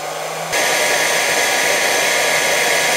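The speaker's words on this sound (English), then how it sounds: "I will try the heat gun on this temperature sensor to see if it will shut down" A heat gun switches on with a sharp jump to a loud, steady blowing hiss, aimed at a temperature sensor inside an Egretech Plume 300 portable power station. It keeps roaring evenly until the end, with no talking.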